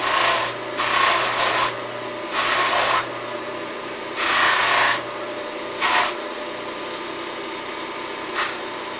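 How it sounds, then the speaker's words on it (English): A buffing wheel polishes a tobacco pipe at the buffer's lowest speed, loud close bursts of whirring friction as the pipe is pressed on in several separate passes, a low motor hum running between them. "This buffer is running at the lowest RPMs that it'll run at."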